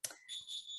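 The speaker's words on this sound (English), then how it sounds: "And sorry about the beeping." A house alarm beeps, steady high-pitched electronic tones sounding close and alone, with no talk over them.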